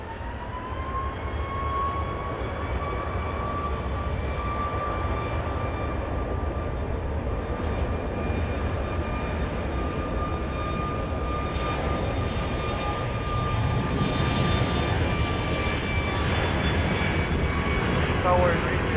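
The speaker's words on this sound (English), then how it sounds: "Flight 163 coming in from Albuquerque, New Mexico, 737-700." A Boeing 737-700 jet airliner at Dallas Love Field, with a loud, sustained engine roar and steady whining tones that build slightly toward the end.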